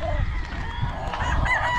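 Chickens at a gamefarm, being picked out for derby entries, cluck and crow in a busy, fairly close farmyard din that runs steadily throughout, with no one speaking.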